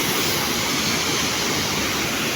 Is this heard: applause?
no